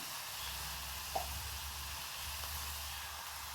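Mustard seeds and curry leaves sizzle in hot oil with a soft, steady hiss, broken by a single brief pop near the start; no one speaks.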